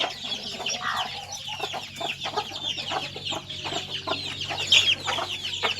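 Burmese chickens, including newly hatched black chicks, cluck and peep in a busy, overlapping chorus close by, with soft chirps and an occasional sharper squawk.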